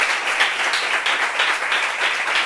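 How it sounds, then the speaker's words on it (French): A gathering's audience applauds steadily for the whole stretch, a dense, even wash of many hands clapping with small swells and no voices on top. "Est-ce qu'on peut applaudir pour Pedro, s'il vous plaît?"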